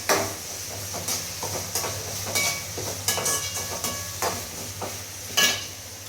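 Ground crab masala sautés in a pan, with repeated scraping and stirring strokes over a low sizzle and a steady background hum, the strokes coming at an uneven rhythm.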